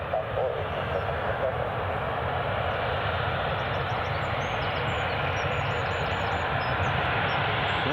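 A jet aircraft roars steadily while landing at Newcastle International Airport, with the loud, even engine noise filling the whole clip.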